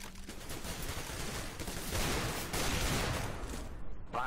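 AK rifle fire in Counter-Strike: Global Offensive, a dense continuous stretch of rapid automatic gunshots with overlapping in-game battle noise, loud and unbroken for several seconds.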